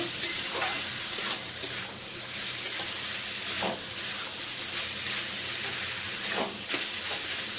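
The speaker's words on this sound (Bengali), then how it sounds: "ভালো করে একটু ভাজা ভাজা করে নেব।" Boiled banana stem frying with poppy seed paste in a pan, a continuous close sizzle and hiss with intermittent scraping stirs.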